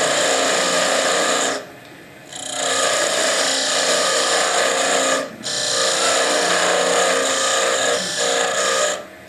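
A wooden Christmas ornament being cut on a spinning lathe, a sustained close scraping and rasping with two short pauses as the tool lifts away before cutting resumes.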